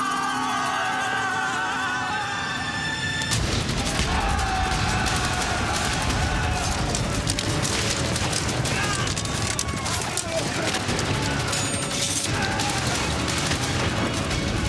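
Battle dramatization with dense, continuous gunfire and booming artillery, crackling volleys and heavy blasts piling up after a brief quieter opening, with shouted voices mixed into the din.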